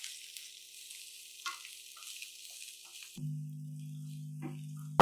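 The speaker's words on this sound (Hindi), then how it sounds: "इसको हल्का सा फ्राई करेंगे।" Onion sizzles gently in a pan, a steady soft hiss of frying with a few light stirring clicks, followed by a low steady hum near the end.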